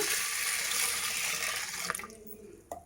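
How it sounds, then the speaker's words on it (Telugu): Toor dal being washed with water in a pressure cooker, a steady close rush of running water that thins out near the end, followed by a couple of brief knocks. "కుక్కర్లో వేసేసి దీన్ని బాగా వాష్ చేసుకోవాలా"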